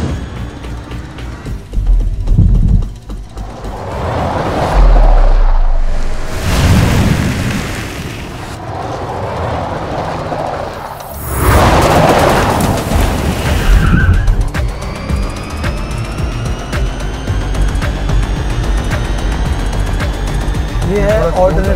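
An Audi car drifting on a race track, engine roaring and tires squealing and skidding in long loud sweeps, with a person talking throughout.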